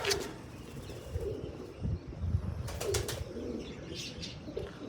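A pigeon flaps its wings in short sharp bursts near the start and again around the middle, over soft low cooing from a loft nearby.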